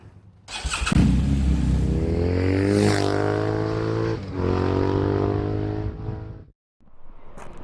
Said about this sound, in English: filmed some of the bikes coming and going